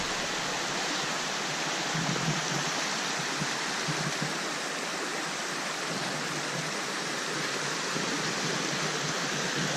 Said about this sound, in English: it brings you down to this beautiful little waterfall